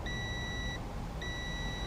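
Two clear electronic beeps from a digital multimeter in continuity-test mode, each a steady tone of under a second separated by a short gap, over a faint background hiss.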